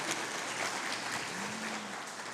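A church congregation applauds the name of the Lord during a sermon, a brief, dense burst of clapping filling the room, heard alone without speech.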